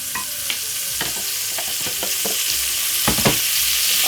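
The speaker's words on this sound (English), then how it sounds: "melt a little bit of butter" Butter melts and sizzles in a frying pan on a stove, a steady bright hiss broken by repeated scraping clicks of stirring, close and with no speech.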